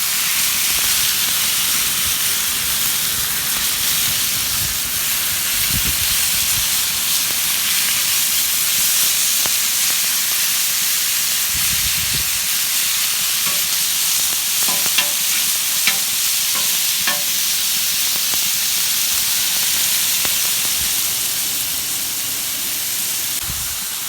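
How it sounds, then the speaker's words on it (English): Veggies and meat fry in avocado oil on a flat-top grill, a steady broadband sizzle with stirring scrapes and occasional crackles running unbroken throughout, close and fairly loud. "So we're gonna put the oil down, add the veggies and the meat, and fry it up here."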